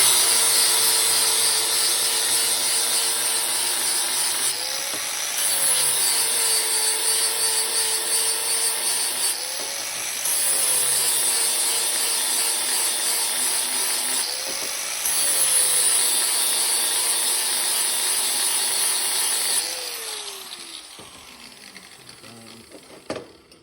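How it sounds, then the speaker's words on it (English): A power tool cuts a chamfer on metal for welding in a 500 BHP rear-wheel-drive Fiesta build. Loud, close, high-pitched grinding comes in four repeated passes of about five seconds each, with the motor pitch dipping between passes, then winding down. "I'm just going to put a chamfer on here so we get a better weld penetration."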